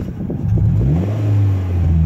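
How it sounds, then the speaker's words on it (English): Scion FR-S fitted with an Invidia N1 exhaust, heard from inside the cabin: a loud, steady low engine drone with rising and falling pitch as the revs change, no talking. "the sound the exhaust sound the Invidia N1 it's amazing this is how it sounds inside the car"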